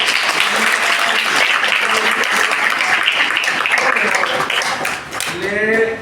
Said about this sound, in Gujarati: એટલે એકવાર તમારા શિક્ષકો માટે તાળી પાડો